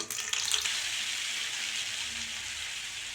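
Oil and butter sizzle steadily in a kadai on the stove, a continuous bright frying hiss with a slight crackle near the start, close and even throughout with no talk.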